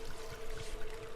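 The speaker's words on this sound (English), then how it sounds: "But if we pour it here in the generator" Fuel being poured into a generator in Darkwood: a steady liquid gurgle with a constant hum, continuous and close for about a second.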